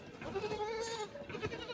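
Osmanabadi goats on a farm in Jintur, Parbhani district, give a faint, wavering bleat with a second shorter call, heard at low volume against a quiet background.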